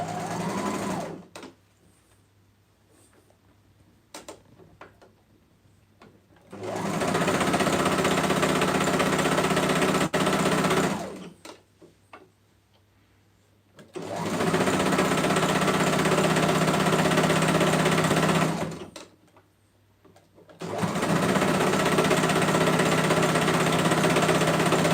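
A sewing machine stitches fabric in three sustained runs of steady mechanical whirring, each lasting several seconds, separated by quiet pauses filled with faint handling noises.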